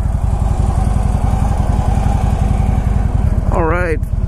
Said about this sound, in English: It's a trimmed down version of the Tri Glide trike. So we're going to take that for a little spin.